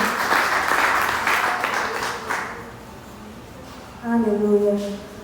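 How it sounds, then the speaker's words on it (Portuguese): A church congregation claps loudly during a Sunday sermon and communion service, applause filling the first few seconds before fading, then a voice speaks briefly near the end. "Aplauda bem forte o nome do Senhor."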